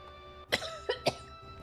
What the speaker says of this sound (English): Spicy cough.